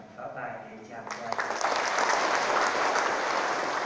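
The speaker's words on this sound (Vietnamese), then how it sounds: "Xin hai họ đạo một tràng pháo tay để cha qua." A parish congregation gives a round of applause in church, the clapping swelling in after a short spoken lead-in and then holding steady and full.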